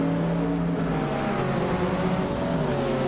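A pack of race cars, including a 1990 Supercars-class field and a 1995 McLaren F1 LM, drones and revs steadily at the start of a race at Highlands Motorsport Park Short Track, with a rising whine over the engine roar.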